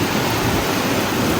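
Rain falling during a strong storm in Canada, with hail feared, makes a steady, even hiss that fills the short moment without any voices.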